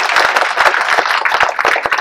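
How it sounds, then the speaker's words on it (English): An audience claps in a brief, dense burst of applause, close and loud, with individual sharp hand claps standing out. "can we give them another round of applause?"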